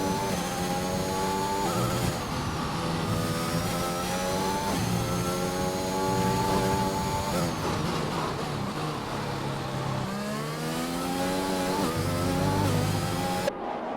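A Formula race car in a racing video game at the Bahrain circuit accelerates steadily through the gears, its engine note climbing and shifting repeatedly, loud and continuous with no talk over it.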